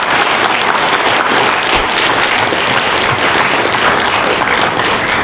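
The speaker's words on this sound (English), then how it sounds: "Let's give another round of applause and thank all of the competitors for giving us an engaging and vigorous debate" Loud, dense applause from an audience thanking competitors at a university debate final, a continuous wash of many hands clapping at steady intensity throughout.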